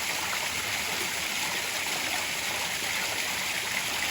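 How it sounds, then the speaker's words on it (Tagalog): Steady, full rush of a flowing stream, loud and continuous from start to finish with no talk over it. "hinay yun ang agas ng tubig"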